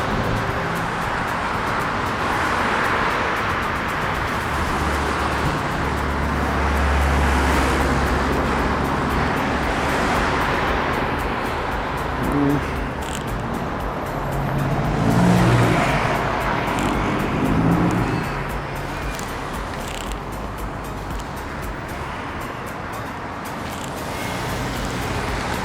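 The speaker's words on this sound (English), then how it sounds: "Traffic's pretty chaos. Coming out of those side roads is not easy." Road traffic around a moving scooter in the Kelmscott area south of Armadale during the evening rush, heard as a steady roar of passing cars and engines with wind rush. It rises in a few spots as vehicles go by.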